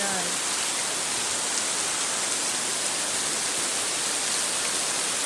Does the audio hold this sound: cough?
no